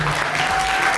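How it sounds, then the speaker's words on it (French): An audience at a book-signing conference in Yaoundé applauds to welcome a guest onto the stage, dense and steady clapping from a nearby crowd that carries on throughout. "donc je prie maître Madame Lady Haute de faire son entrée sous votre acclamation"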